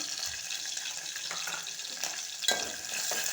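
Green chilies and onions drop into hot oil in a pan, giving a close, steady sizzle with a few light stirring scrapes over a short stretch.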